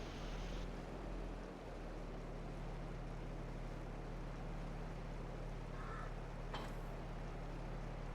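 A tractor engine running on a barley harvest farm, a steady low drone heard from inside the cab, with a brief click and rattle near the end.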